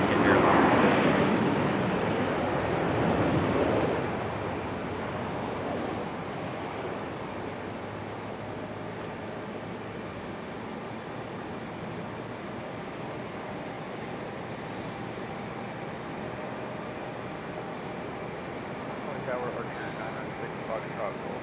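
An Alaska Airlines airliner taxis at Raleigh-Durham airport, giving a steady, broad engine roar that is louder at first and then settles into a constant drone.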